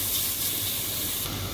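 Chicken hits a hot frying pan for a stir fry, giving a steady, bright hiss of sizzling oil that stays loud and even throughout, with no talking.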